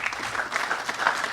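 Crowd applause for the mayor at the opening of an electric vehicle battery factory in Kentucky, a brief dense burst of clapping from a gathered audience, steady and fairly loud.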